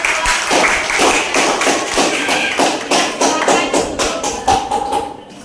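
Steady, energetic clapping from a classroom audience after a group presentation, dense overlapping claps continuing throughout at a close, loud level.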